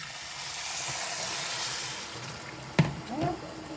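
Water poured into a hot pan of sauteed rice for cilantro lime rice gives a steady sizzling hiss, then a sharp burst of bubbling and spitting near the end, fairly quiet and close.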